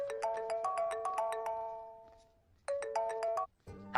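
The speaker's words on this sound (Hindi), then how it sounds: "भैया, आपको किसी का फोन आ रहा है।" A melodic phone ringtone plays in a Hindi-dubbed South Indian film scene, two bursts of rapid bright chiming notes separated by a short fade, loud and alone.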